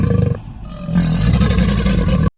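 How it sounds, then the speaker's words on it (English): An alligator gives a loud, close, deep rumbling roar that swells after a brief dip and holds steady before cutting off abruptly. "alligator"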